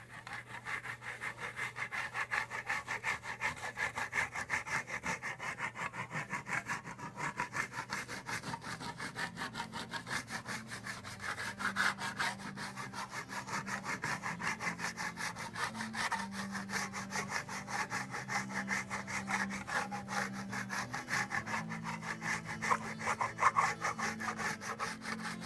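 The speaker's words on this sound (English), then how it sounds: "This time I'm going to use my trowel and burnishing and polishing the surface at the same time." A trowel rubs back and forth across a waxed antique plaster panel, burnishing and polishing it in a steady, continuous scraping rhythm that stays close and even throughout.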